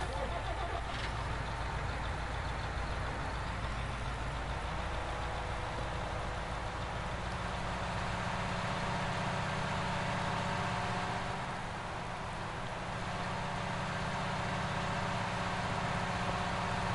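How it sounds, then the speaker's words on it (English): A John Deere tractor engine in a farming video game runs at a steady, even drone for the whole stretch, with no breaks and no voices over it. "We need to get this tractor out of the way before things get out of hand."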